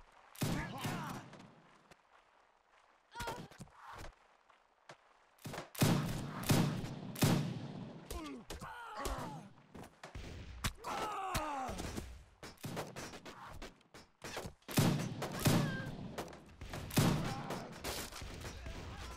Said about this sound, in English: Go on, rifle company, fire.